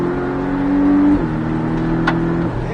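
A Porsche Cayman 718S on a race track at Mettet gives a loud, close engine drone from the cabin as it accelerates, the pitch shifting midway as it changes gear, steady and with no talking.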